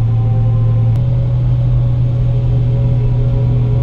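A steady low road drone with a constant tonal hum from Mud Grappler mud-terrain truck tires rolling on pavement, heard from inside the moving truck.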